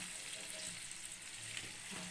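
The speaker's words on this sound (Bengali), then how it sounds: "দেখো ঝোলটা আমার ফুটেও উঠেছে। তো এই জায়গায় আমি মাছটা দিয়ে দেবো" Parshe fish going into a pan of boiling mustard and poppy seed gravy, giving a steady close sizzle and bubbling with no voices.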